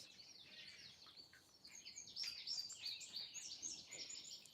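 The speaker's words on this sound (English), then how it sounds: "let's listen to the birds" Birds chirp and twitter in a continuous chorus, high and bright, with several calls overlapping at moderate volume and no voices.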